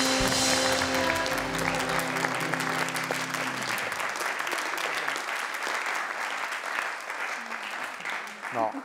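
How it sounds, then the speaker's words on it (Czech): Studio audience applause on a television talk show starts under fading music and voices, then settles into steady, full clapping through to the end. "tady těmhle lidem patří ten dík a potlesk"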